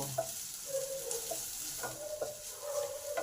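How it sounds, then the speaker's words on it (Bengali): Ginger and onion frying in oil in a pan over medium heat, with a steady close sizzle and several scraping stirs of a spatula at irregular intervals; no voices. "আদাটাকেও ভালো করে পেঁয়াজের সঙ্গে ভেজে নেব"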